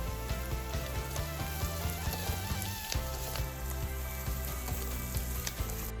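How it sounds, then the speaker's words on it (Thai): Sliced onion and dried chilies with garlic fry in an oily pan for a bacon pasta, making a steady close sizzle with light crackles and occasional stirring taps, without any talking. "พอหัวหอมใหญ่สุกแล้วก็ใส่พริกแห้งต่อได้เลยค่ะ"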